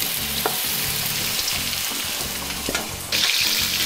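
Second batch of beef strips frying in a wok of hot oil for Mongolian beef, a loud continuous sizzle with stirring scrapes and a sudden burst of brighter hiss near the end.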